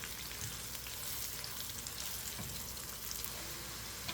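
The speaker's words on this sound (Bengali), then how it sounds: "পেঁয়াজের পেস্টটাও একটু ভাজা ভাজা হয়ে আসছে" Onion paste fries in oil in a pan for egg bhuna, a soft, even sizzle with a constant crackly hiss, fairly quiet and uninterrupted, with no voices.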